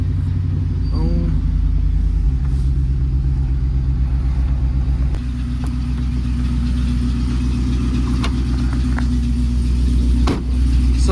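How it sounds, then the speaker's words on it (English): A Ford Ranger revs and runs through a burnout in a concrete parking lot, its loud, steady engine rumble continuing throughout with a brief dip near the end. "I did a little burnout in this parking lot"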